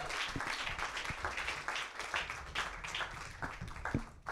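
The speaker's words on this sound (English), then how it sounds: "Another round of applause for our Team Blue." Audience applause in a conference room for a presenting team at a sustainable transport forum, a steady, moderately faint patter of many hands with scattered sharper claps running throughout.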